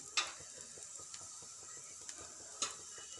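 Onions frying in a pan for a pepper and garlic egg fry, a steady soft sizzle broken by a few sharp scrapes of a spatula being stirred, close and alone.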